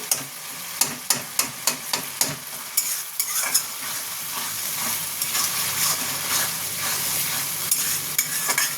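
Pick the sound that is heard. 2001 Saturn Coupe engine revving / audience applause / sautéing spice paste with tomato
sautéing spice paste with tomato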